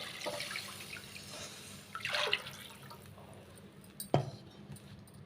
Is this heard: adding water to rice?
yes